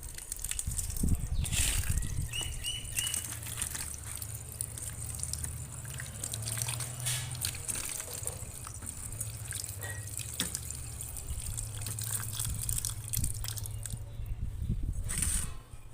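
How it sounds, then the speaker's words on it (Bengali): A mango is washed under running water, a steady close splashing and trickling stream with occasional drips and squishy handling sounds throughout. "আমটাকে ধুয়ে নেব।"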